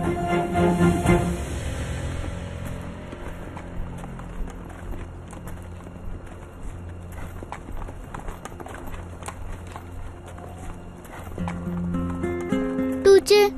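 Horse being ridden in a Turkish drama scene, hooves clip-clopping in a steady rhythm at moderate distance beneath people talking, with music swelling at the start and end.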